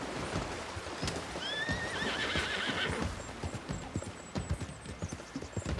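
Horse in Red Dead Redemption 2 whinnying loudly as it is ridden through deep water, followed by a run of hoof clops and splashy thuds, close up, with no talk.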